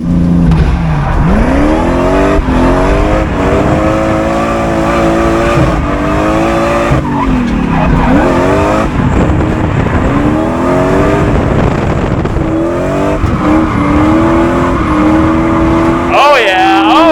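A supercharged V8 drift truck on a large road course roars and revs hard, with tires squealing and skidding through slides, loud and close for the whole stretch, the engine pitch rising and falling with each throttle stab.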